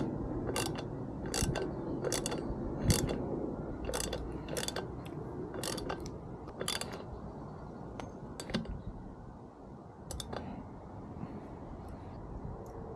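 Bolts on a hub motor disc brake being tightened in a crisscross pattern, with crisp ratcheting clicks in short bursts and pauses close by against a low background.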